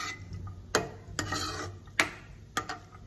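Semolina (rava) frying over low heat in a pan for rava laddu, a soft scraping stir with sharp clinks of a spoon against the pan at irregular intervals, close and fairly quiet with no talk.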